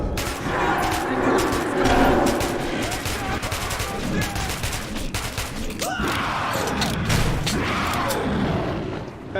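Gunfire in the video game Metro 2033 Redux crackles in rapid bursts of shots with heavy booms and clanking mechanisms, loud and close, and a voice briefly breaks through the chaos.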